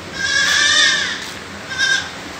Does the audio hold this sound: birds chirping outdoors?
no